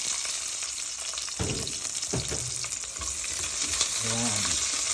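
Garlic and onion frying in a pan for chicken igado, a loud steady sizzle with stirring scrapes and a few low clatters, no voices.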